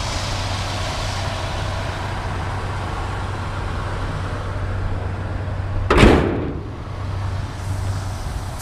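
A heavy door slam on a 1975 Cadillac Coupe DeVille, one loud close thud standing out sharply over a steady low idle or background hum, then the hum carries on.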